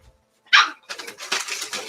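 A puppy barks in short, sharp bursts close by indoors: one loud yap followed by a quick run of smaller yips and whines.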